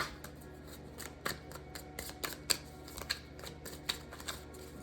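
Angel oracle cards shuffled and drawn, a rapid, close run of crisp riffling snaps and flicks repeating throughout.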